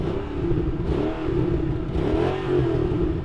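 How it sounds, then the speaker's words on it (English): A supercharged Mercedes-AMG E55 engine revs steadily for a few seconds, a loud, close, throaty mid-range drone with rising and falling swells and no talk over it. "Okay, let's have a listen to that Mercedes engine."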